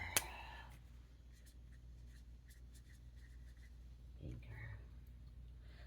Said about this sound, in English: I gotta write that down.